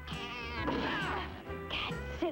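A Siamese cat meows in a drawn-out, wavering cry, followed by a second shorter call near the end, loud and close with no talk over it.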